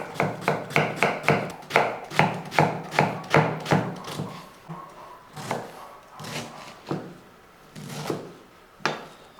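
Cabbage chopped with a knife on a board, a rapid, regular run of crisp close thuds that slows into slower scattered cuts toward the end.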